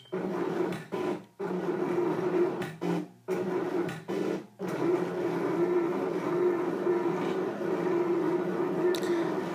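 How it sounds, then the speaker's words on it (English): A Cricut Expression 2 cutting machine works on a Paris-themed card, a close, steady mechanical whir with a humming drive, broken early by several abrupt stops and restarts before running continuously. "I am using my Cricut Expression 2 with the Cricut Craft Room."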